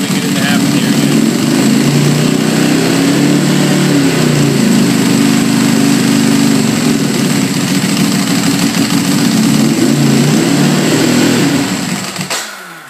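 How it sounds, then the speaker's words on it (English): Motorcycle engine running loud and close with a steady rough drone and slight rises in pitch, then dying away as the bike stalls near the end. "So that just actually stalled the bike out too."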